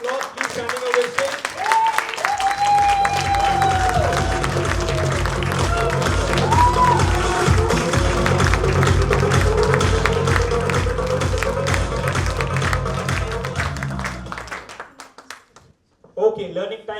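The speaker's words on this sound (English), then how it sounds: "Big round of applause. Please standing ovation." Audience applause at a live stage event honoring a transformation story, dense steady clapping with crowd noise that swells and holds for about fourteen seconds before fading out, with speech mixed in.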